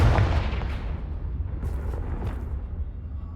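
A Confringo blasting spell in Hogwarts Legacy detonates in one loud, close boom that rolls off into a long rumbling decay with faint crackles, no voices over it.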